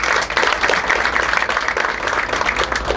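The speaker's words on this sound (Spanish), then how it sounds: "forte aplauso." Audience applause for a city councillor at a sister-city ceremony between Foz do Iguaçu and Hernandarias: a sustained, dense patter of many hands clapping, fairly loud and even throughout with no talk over it.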